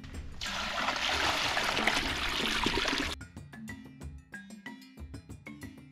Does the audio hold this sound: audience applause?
no